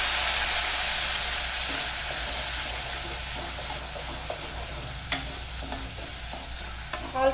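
Curry leaves and ground paste fry in oil for a Chettinad fish curry, with a loud hissing sizzle that gradually settles, punctuated by occasional spatters and stirring clatters near the end.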